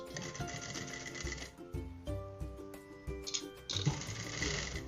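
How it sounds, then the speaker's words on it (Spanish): Sewing machine stitching a hem along the edge of a basic skirt, in rapid rhythmic bursts of needle clatter broken by brief pauses, heard up close without speech. "Y le voy a hacer un dobladillito en la puntica y voy a pespuntarlo por todo el bordito"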